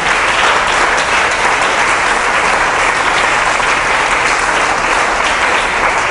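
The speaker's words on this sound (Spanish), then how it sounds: "Un aplauso al Señor." A church congregation in Planeta Rica, Colombia, breaks into loud, sustained applause honoring the Lord, a dense steady wash of many clapping hands that holds evenly throughout with no speech over it.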